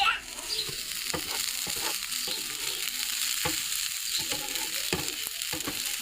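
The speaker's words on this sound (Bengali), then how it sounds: "চালটা সবজিটা আমরা ভালোভাবে এটা একটু ভেজে নেব।" Rice and vegetables frying in a pan for village-style vegetable pulao, a steady sizzle broken by repeated scraping clicks of a spoon stirring the mixture, close and without talk.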